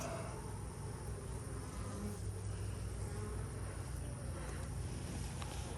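Honey bees swarm in an open hive during a brood box inspection, a dense, steady buzzing hum heard close and continuous, with no voices over it.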